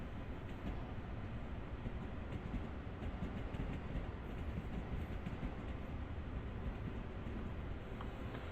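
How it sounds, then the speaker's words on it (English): A Long Island Rail Road train passing in a train simulator game, a continuous low rumble and clatter of rail cars holding steady throughout with no talk. "So there's obviously a train there. A couple of trains."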